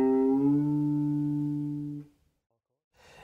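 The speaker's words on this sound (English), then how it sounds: "So I want to make this note sound like this note by bending it." A single electric guitar note picked and bent up a whole tone, sustaining clearly for about two seconds before fading into silence, then a short faint noise at the end.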